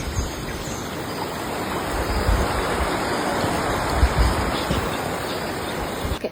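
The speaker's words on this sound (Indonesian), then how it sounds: "Ini posisi kita lagi nyebrang sungai." River water rushing steadily while someone wades across a river with no bridge, a broad continuous wash of flowing water close by, with no talk over it.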